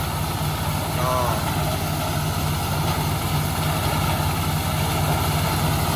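A corn sheller machine that strips kernels without husking runs on a steady engine, giving a constant, moderately loud mechanical drone with an even low hum throughout, heard from close by.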